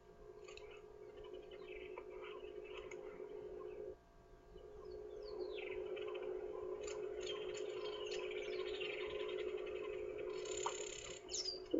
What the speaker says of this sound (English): These are termed village weavers.